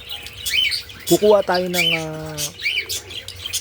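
Pet parakeets chirp and tweet in short, bright calls, with one clear, sustained call in the middle, while someone speaks over them.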